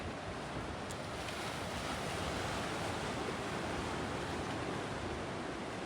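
Sea waves wash in where the sea meets a small lagoon, making a constant, even roar of surf. Wind rushes across the microphone and no one speaks.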